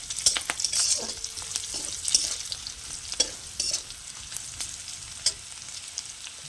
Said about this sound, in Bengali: ভালো করে আমি ভেজে নেবো দিয়ে দেবো অল্প করে গুঁড়ো লঙ্কা